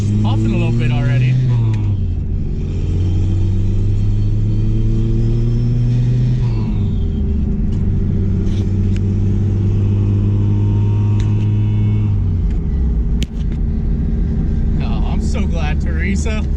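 A car named Theresa runs while being driven, puffing a little. Its engine drones low and close throughout, with the pitch rising and falling as it pulls, and a voice speaks over it at times.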